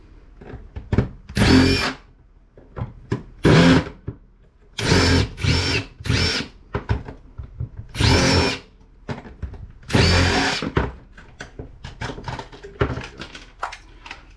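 A power drill backs screws out of a Maytag microwave being scrapped, sounding as loud whirring bursts of one to two seconds separated by quiet gaps and small clicks and rattles.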